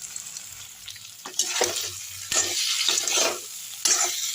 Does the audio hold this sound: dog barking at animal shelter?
no